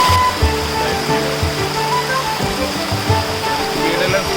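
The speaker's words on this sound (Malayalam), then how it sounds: "നമ്മളിപ്പോൾ ഉള്ളത് കാരക്കുണ്ട് വെള്ളച്ചാട്ടത്തിന് മുന്നിലാണ്" Karakkund waterfall in Kannur roars in a steady, loud, broadband rush of falling water, with faint voices under it.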